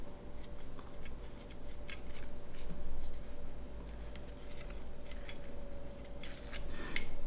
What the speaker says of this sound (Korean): 이거를 가위로 이렇게 가위집을 내주세요